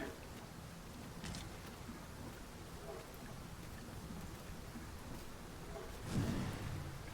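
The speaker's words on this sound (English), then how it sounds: "It is raining most heavily." Steady heavy rain hisses faintly and constantly in the video game Dragon's Dogma 2, with a low rumble of thunder rising near the end.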